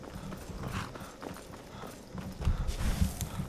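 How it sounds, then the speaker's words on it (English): Horse hooves clop in a quick, uneven rhythm in the video game Skyrim, moderately close, steady throughout with slight rise near the end. "That horse. Wretched horse."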